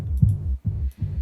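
Low frequencies run through a distortion effect in an audio-mixing demonstration, producing three heavy, fuzzy, saturated bass swells that rumble continuously with short gaps between them, and nobody speaks.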